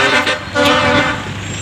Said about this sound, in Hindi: इसीलिए हॉर्न्स वगैरह शदीद आते हैं चूँकि मेन रोड है।